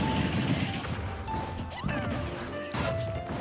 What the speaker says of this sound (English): Krow reading the approach and just front smashing TriVium off the map